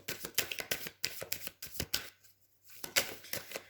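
Tarot cards riffle and snap in quick, close bursts while being shuffled and drawn for a cross spread, with a brief quiet pause midway before the crisp shuffling resumes.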